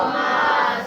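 A large gathered crowd at a Shia majlis answers together in a loud, sustained unison salawat chant, a brief swell of massed voices.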